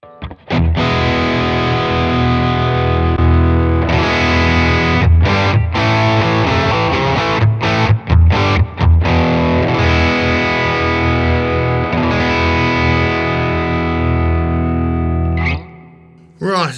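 A distorted electric guitar through a BOSS IR-2 pedal loaded with a 1x12 Fender cabinet impulse response, playing loud, dense, continuous chords and riffs with a few brief stops, then cutting off near the end.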